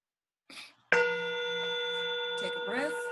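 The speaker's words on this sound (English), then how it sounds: "So let us start with the gong." A gong is struck once at the start of a short group meditation session, a loud bright strike that rings on with a steady shimmering sustain, after a brief voice just before and under a soft voice near the end.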